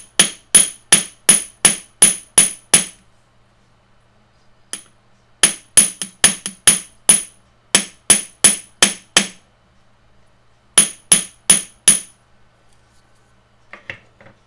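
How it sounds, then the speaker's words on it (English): Sharp metallic hammer taps on jewelry wire in quick rhythmic bursts of several strikes each, separated by short pauses, close and clear with no talking. "Then we're going to hammer that to help to give that some strength too."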